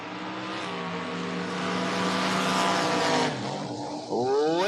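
Drag race between a Dodge Demon and a Camaro at a drag strip, engines roaring loud and sustained with rising harmonic tones, a sharp change near the end as another engine note climbs.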